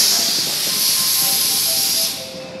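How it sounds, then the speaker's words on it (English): Steady loud hiss of an air pump filling bike tires at a bike shop in a covered Tokyo shopping street, with faint crowd murmur and a few short tones, fading after about two seconds. "There's a bike shop. That's what that sound is. People are filling up their tires."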